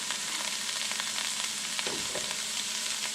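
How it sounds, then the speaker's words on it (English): Bell peppers are sautéed in a pan with onions, garlic and ginger, giving a constant, close-up sizzle broken by a few soft stirring scrapes. "I'll go ahead and put my peppers in."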